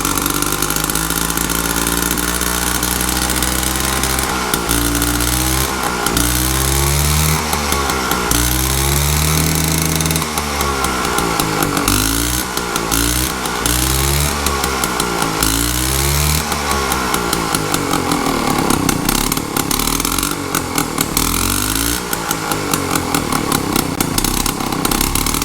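A Honda PA 50 two-stroke moped engine runs loud and close, a buzzing idle whose revs rise and fall repeatedly in short blips, revving harder and more raggedly toward the end.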